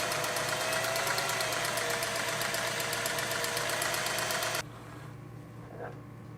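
A Singer 403A sewing machine stitches through white fabric with a steady, fast mechanical whirr for several seconds, then stops abruptly, leaving a quiet room with a faint knock.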